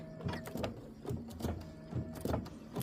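An embroidery machine stitching a Mylar quilt block for a butterfly design hums with a rapid mechanical chatter, close and steady, with regular louder pulses roughly every half second.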